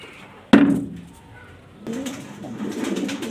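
A pair of breeding pigeons gives low, steady cooing that runs continuously near the end, after a sharp knock and a short quiet gap.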